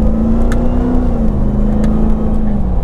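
A Ram TRX pickup truck's 702 hp engine holds a steady, loud drone with a faint pitch shift as the paddle shifters change gear, heard from inside the cab.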